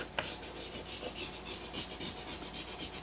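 Vintage chisel being honed on a secondary bevel, a soft, steady rhythmic rasping of steel scraping back and forth on a stone, with a small tap at the start.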